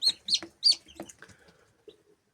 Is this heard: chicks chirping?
yes